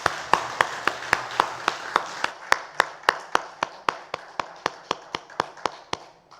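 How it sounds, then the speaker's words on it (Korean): A congregation claps in slow, steady unison during a Sunday worship service in a church, about twenty evenly spaced, crisp claps ringing out one after another with no talking. "하나님께 영광의 박수 올려드립니다"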